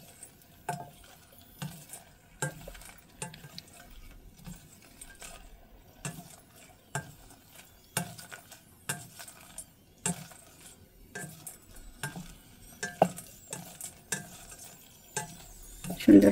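Red chillies fry in a pan with repeated stirring, close clinks and scrapes of a spatula in an irregular rhythm over a soft, faint sizzle.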